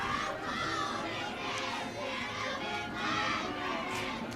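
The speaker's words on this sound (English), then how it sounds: "That's the cheer squad." A high school football crowd and cheer squad shouting together, a continuous dense wash of voices at moderate distance with slight swells.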